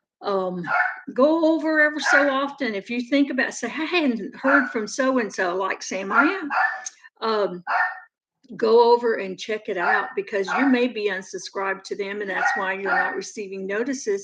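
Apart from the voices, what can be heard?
dog barking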